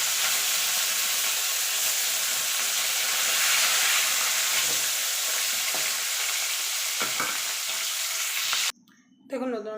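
Pieces of rohu fish fry in hot oil in a wok, a steady loud sizzle with occasional stirring scrapes, ending abruptly near the close as a brief voice and quieter kitchen noise take over.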